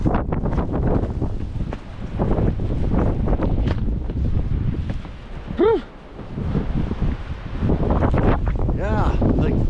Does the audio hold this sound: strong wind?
yes